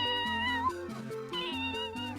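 A cat character in the Zelda game Minish Cap gives a synthesized, tuneful meow made of stepped, chiptune-like notes. It repeats in a short melodic pattern, clear and close with no talk over it.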